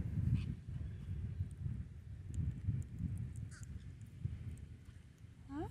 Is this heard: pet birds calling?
yes